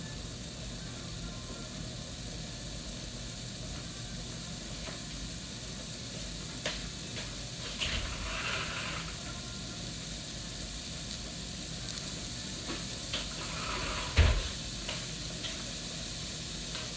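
Food in a skillet for a chicken pot pie noodle dish, a steady hiss of sizzling with occasional scraping stirs and a sharp clatter near the end.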